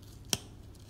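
Scissors making a single quick snip while opening a K-pop album package, one sharp, close cut against a quiet background.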